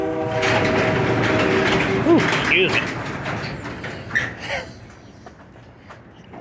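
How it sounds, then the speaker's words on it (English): A train rumbles by in the background while a person speaks briefly over it, the noise fading out toward the end. "sometimes trains are loud sometimes you don't barely hear them"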